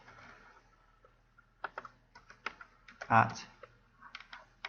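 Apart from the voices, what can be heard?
typing on a computer keyboard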